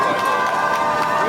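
A crowd at an outdoor election campaign rally by a traditional market roars with a steady, dense wash of cheering and clapping, with voices mixed into the noise throughout.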